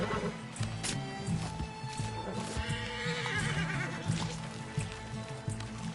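A horse whinnies loudly nearby in Red Dead Redemption 2 amid clip-clopping hooves and a busy ambient backdrop, with faint sheep bleats in the distance.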